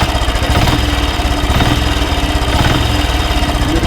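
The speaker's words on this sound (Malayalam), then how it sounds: "ഞാൻ ത്രോട്ടിൽ കൊടുത്തു വിടുകയാണ്." A Royal Enfield Electra 5-speed self-start motorcycle engine runs close and loud under throttle, a dense steady thumping beat that stays fairly even for a few seconds with no talking over it.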